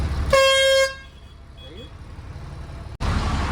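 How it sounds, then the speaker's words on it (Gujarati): A truck horn on a narrow residential street gives one loud, steady honk of about half a second, followed by quieter street background with people talking nearby. "હોરન મારો હોરન"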